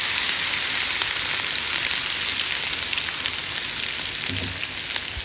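Ginger, garlic and green chili paste frying with onions in a pan for a moong masoor tadka dal, giving a steady close sizzle and crackle that runs on without pause.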